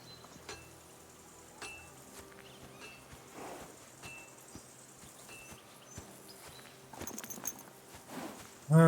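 A horse walking in Kingdom Come Deliverance 2, with faint, sparse hoof clops at a slow pace alongside small metallic clinks of gear, quiet and fairly distant, ending in a louder burst.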